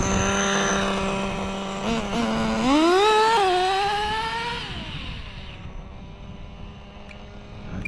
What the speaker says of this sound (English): Got a little popper, so it sounds a little